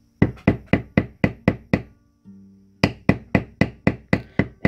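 A hammer beats a leather tooling stamp while carving Celtic knotwork on a custom leather book cover, sharp close wooden-sounding taps in an even rhythm, a short pause, then another steady run of strikes.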